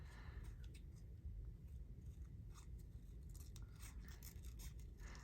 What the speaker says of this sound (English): I'll use these scissors for this.